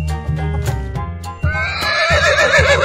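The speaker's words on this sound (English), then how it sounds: "Horse." A horse neighs loudly in a long, shaky whinny, with a few sharp clip-clop knocks at the start.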